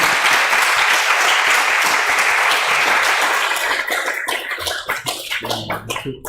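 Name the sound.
applause at a ceremony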